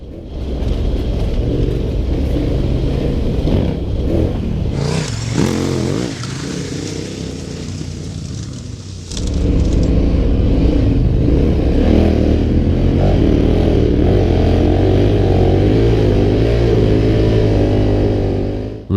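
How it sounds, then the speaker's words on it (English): A KTM 1190R adventure motorcycle rides down a beach with a loud, close engine drone that runs continuously, dips briefly in the middle, then returns stronger and steady. "Legging it down the beach is one of the coolest things you can do on a big adventure bike"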